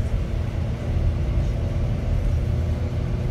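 2017 GMC Canyon 4-cylinder crew cab work truck pulling away in second gear while towing a large trailer, with a steady low engine rumble and road noise from inside the cab.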